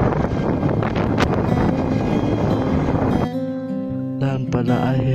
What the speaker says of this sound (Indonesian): Di saat hari ini angin begitu kencang bertiup.